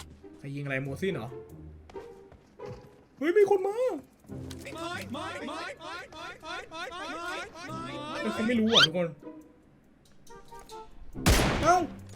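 Gunfire in a shooter video game played with a sniper, mostly buried under excited talking, ending in one loud, sharp burst of shots near the end.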